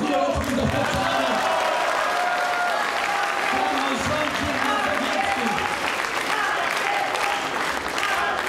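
A crowd at a Law and Justice political rally in Płock with Beata Szydło gives sustained, dense applause that continues steadily throughout, loud and enveloping.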